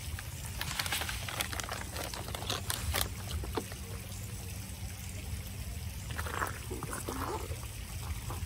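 Granular soil amendment sprinkled around a newly planted Tiny Tuff Stuff hydrangea outdoors, a soft continuous patter and trickle with a few sharper bursts over steady background noise.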